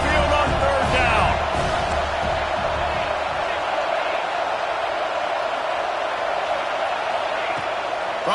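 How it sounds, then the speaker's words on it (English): Home crowd at an Alabama Crimson Tide football game, Saban Field, roaring loudly on a third down against Florida State; a steady, dense wall of noise from near and far throughout, with a brief sharper burst of cheers at the start. "The Tide crowd rolling noise down onto Saban Field on 3rd down."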